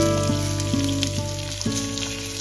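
Chopped onion frying in oil on a griddle with mustard seeds, cumin and asafoetida gives a steady, close crackling sizzle, heard over a continuous tonal background with shifting pitched notes.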